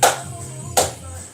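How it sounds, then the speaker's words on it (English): Two separate hand claps, crisp and fairly close, spaced under a second apart, over a low steady background hum of music. "Clap along wherever you are"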